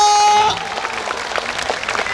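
An audience claps at an Isra Mi'raj religious lecture held by the Wajo regency government, applause rising right after a loud voice and continuing as a dense patter of many hands.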